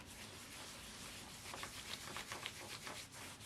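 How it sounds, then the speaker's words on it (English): Textured plastic rubbed by hand while making a collage: a soft, steady scraping rub that grows into quick repeated strokes in the second half, quiet and close, with no talking. "I wonder what happens if you rub it as well."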